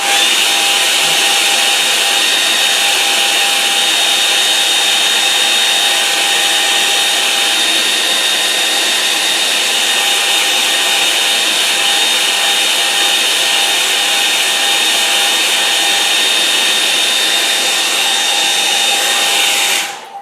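A hair dryer blows continuously and loudly over a watercolour painting for twenty seconds, a steady whooshing roar with a faint whine that cuts off abruptly at the end, no voices.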